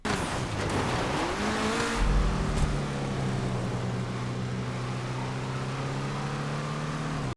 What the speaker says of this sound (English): Lampadati's machine shared its engine not with the road-going cars, but with Vapid's pedigree in stock car and endurance racing.